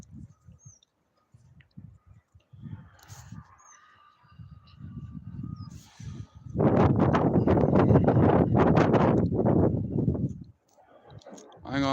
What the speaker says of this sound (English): that's because it's fucking windy